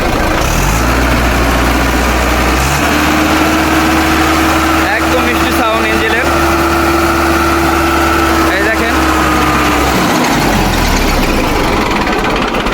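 A Mahindra 605 tractor's diesel engine idles steadily and loudly with a low droning rumble, a rising whine joining midway before the engine note drops near the end.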